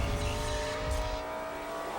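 Onboard NASCAR race car driven by Dale Earnhardt Jr. at New Hampshire, a loud steady engine roar held at high revs throughout, close and continuous with a faint tire whine.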